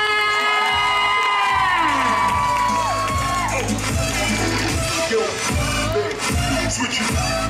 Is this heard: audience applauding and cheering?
yes